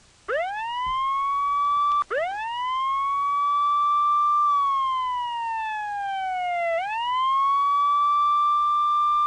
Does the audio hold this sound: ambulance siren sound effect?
yes